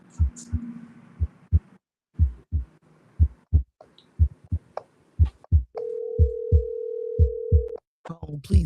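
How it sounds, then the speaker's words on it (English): A telephone line gives a steady dial tone lasting about two seconds, set among a run of repeated low thumps and short clicks while a number is dialed, with a burst of busier sound at the end. "we're going to go ahead and dial that number"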